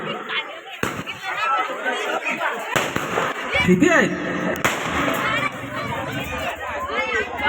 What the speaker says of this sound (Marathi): फटाके संपू दे.